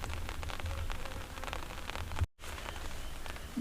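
Steady rain falls as an even, hissing wash of patter, quiet and constant, with one brief dropout midway before the downpour carries on.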